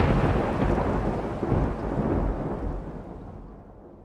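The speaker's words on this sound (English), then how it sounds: "a bolt of lightning lights up the sky, followed immediately by an intense clap of thunder" A loud, intense thunderclap rolls into a deep rumble that slowly fades, with rain falling underneath.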